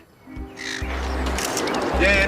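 A crow caws a few times amid busy background sound, harsh squawking calls with a low hum underneath and some movement noise.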